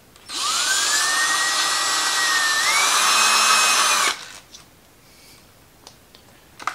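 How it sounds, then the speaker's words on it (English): Cordless power tool spinning out screws on an Audi DL501 (0B5) transmission mechatronic unit, a steady loud motor whine for about four seconds, its pitch stepping up midway, then quiet handling clicks. "We're gonna move six screws."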